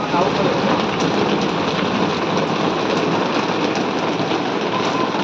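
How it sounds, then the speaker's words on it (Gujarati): Heavy rain pours steadily, a loud, unbroken hiss of water striking surfaces all around. "વરસાદ ચાલુ થઈ ગયો છે"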